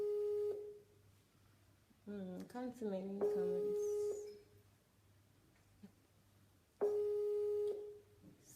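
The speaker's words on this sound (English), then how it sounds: "it's ringing on Skype, it's not picking too" A Skype call rings unanswered: faint, steady electronic ring tones repeat in separate bursts, with a person speaking quietly in the gaps between them.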